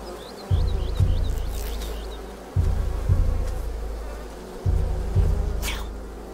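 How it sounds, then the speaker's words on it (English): A steady buzz of bees in the video game A Plague Tale: Requiem drones throughout, with repeated low thumps in pairs and a few faint chirps overhead. "What's up with all the bees?"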